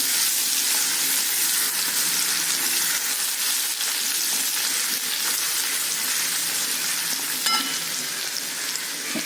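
Curry leaves fry in hot oil for an orange peel tamarind pickle, giving a loud, dense, continuous sizzle and spatter that holds steady throughout, with a few faint clicks and no talk.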